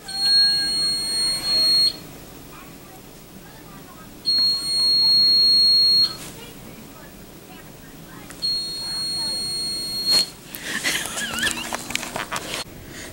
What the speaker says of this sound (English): The beep is gonna make me crazy.